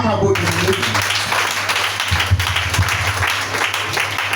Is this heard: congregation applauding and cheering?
yes